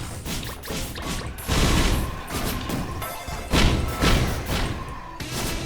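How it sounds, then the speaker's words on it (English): Repeated explosion blasts and crashing booms from the video game Risk of Rain, a dense run of thuds and bursts layered over continuous game effects, loud and close throughout. "And you get those big bang sounds, pretty good."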